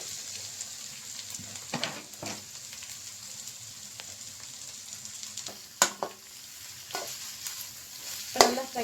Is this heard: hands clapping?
no